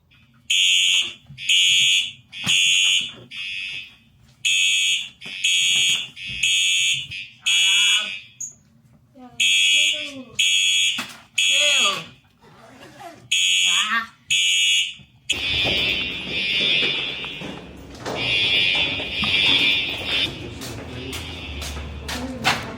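A building fire alarm goes off with loud, regular beeping bursts separated by short pauses, then gives way to a denser, more continuous wash of alarm tone and noise.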